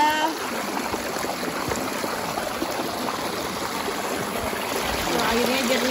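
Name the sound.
mountain stream water flowing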